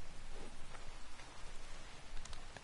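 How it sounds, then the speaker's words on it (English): Rain in Red Dead Redemption 2, a dense, continuous hiss of falling drops on surfaces, steady and fairly loud with no voices. "And it's raining again."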